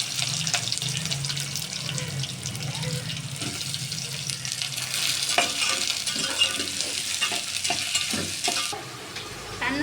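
Chopped onions frying in hot oil with green chillies for a samosa filling, a steady crackling sizzle with repeated scraping stirs of a spoon through the pan, close up and without speech.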